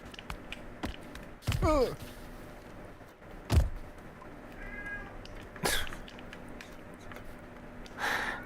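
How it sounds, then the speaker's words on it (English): A house cat lets out a drawn-out meow, then a few fainter cries later, against quiet room noise with occasional soft clicks and thumps. "Can you hear the cat?"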